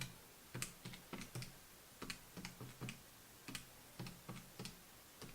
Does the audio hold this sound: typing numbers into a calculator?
yes